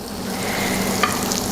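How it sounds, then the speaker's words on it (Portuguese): Carrot julienne, asparagus, cauliflower and broccoli sauté in butter in a frying pan, with a dense, close, steady sizzle and light stirring crackle throughout a brief stretch. "essa frigideira tem manteiga, então a gente vai saltear esses legumes"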